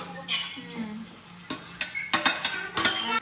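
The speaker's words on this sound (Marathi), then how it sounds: "बटाट्याची चटणी मस्त परतून घेते" Potato filling for vada pav sautéed in a pan, soft sizzling broken by a run of sharp spatula scrapes and clanks against the pan, close and quick.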